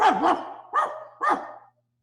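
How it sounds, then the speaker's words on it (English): A dog barks three times, loud and close, with short pauses between each bark, then silence. "I barked. Then I barked some more."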